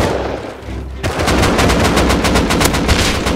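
Rapid automatic gunfire in the video game Rust during a counter raid, a dense burst of repeated shots starting after a second of quieter rumble and continuing loud and steady to the end.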